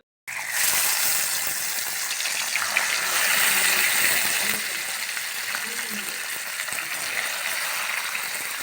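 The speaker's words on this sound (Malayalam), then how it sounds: "ഇനി ഇതിലേക്ക് നമുക്ക് മീനുകൾ ഓരോന്നായിട്ട് ഇട്ട് കൊടുക്കാം." Tilapia pieces frying one by one in hot oil for a Kerala-style fish fry, a steady loud sizzle and hiss starting abruptly and continuing throughout, with no talk.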